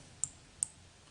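Two sharp, faint computer mouse clicks, about 0.4 seconds apart, select the mail option against a quiet background.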